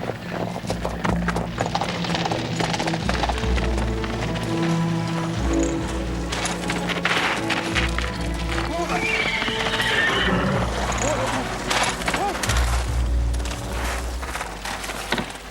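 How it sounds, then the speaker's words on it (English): A horse gallops with steady clip-clop hoofbeats and lets out loud whinnies, close and busy throughout, with some rattling mechanical noise mixed in. "Stop that horse."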